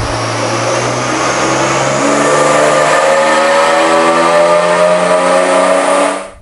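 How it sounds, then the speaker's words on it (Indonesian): Inline six-cylinder M54B25 engine of a BMW E46 revving hard on a dyno, a loud sustained roar climbing steadily in pitch for about six seconds before cutting off abruptly at the end. "Ya, jadi tadi kita udah menikmati ya suara 6 silinder dari M54 B25 BMW."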